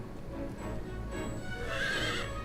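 A horse whinnies in the video game Fire Emblem Warriors: Three Hopes, a fairly loud, drawn-out neigh rising toward the end, with faint hoof clip-clop and game ambience underneath.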